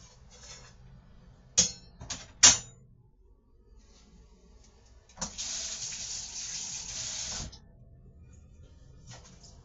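Liquid draining from a can into a kitchen sink while making a budget chili: a few sharp metallic clinks, then a steady splashing pour for about two seconds, fairly quiet and close.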